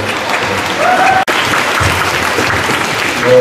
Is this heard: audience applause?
yes